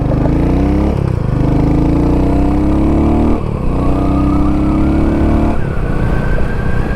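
A Royal Enfield Hunter 350 motorcycle fitted with an aftermarket exhaust pulls loudly and close through three rising gear runs, each ending in a brief drop at the shift, with a deep throaty tone and no talk.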